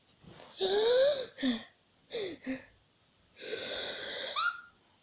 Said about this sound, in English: you have a sneeze and you think you're going to sneeze, and then it just doesn't work